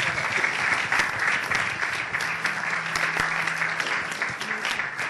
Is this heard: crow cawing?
no